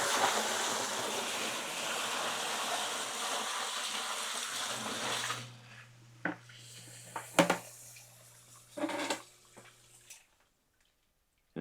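Water from a bucket pours into a basement sump pit, a steady loud rushing gush for about five seconds that cuts off, followed by a few scattered splashes, knocks and a low hum.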